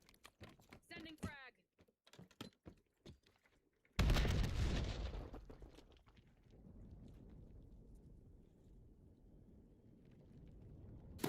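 A frag grenade explosion in Black Ops 7, a sudden heavy blast at about four seconds that trails into a long rumbling decay, preceded by quiet clicking and brief talk.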